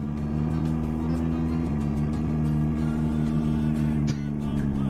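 Car in Euro Truck Simulator 2 driving through a flooded river, a steady low engine rumble with a watery wash over it, loud and constant, a short thud near the end.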